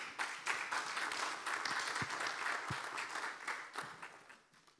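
An audience at a conference on African diaspora policy claps for a network of decentralised cross-border cooperation, a soft, moderately dense applause with distinct individual claps, heard from some distance and fading out at the end.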